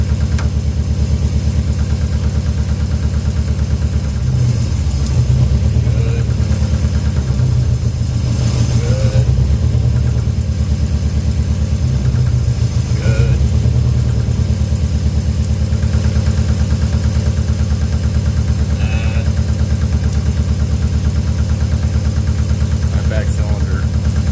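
A Volvo 240 car engine idles roughly with a misfiring cylinder, a loud, steady, close rumble with an uneven, stumbling pulse and exhaust noise throughout.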